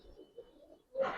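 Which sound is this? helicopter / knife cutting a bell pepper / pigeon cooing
pigeon cooing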